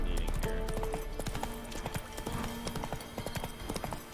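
Roach, the horse in the video game Witcher 3, trotting with rhythmic clip-clop hoofbeats over game ambience and a tonal music bed, with a voice talking faintly at times.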